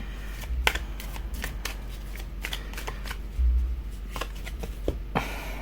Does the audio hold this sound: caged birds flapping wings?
no